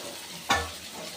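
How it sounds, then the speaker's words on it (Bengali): Fried onion (beresta) stirred into a spiced potato and eggplant mix for a spicy poa bhola fish curry, heard as one brief scraping stir with a short sizzle burst over a quiet pan hiss. "বেরেস্তাটাকেও আমি মশলার সাথে আর আলু বেগুনের সাথে একটু ভালো করে কষে নেব।"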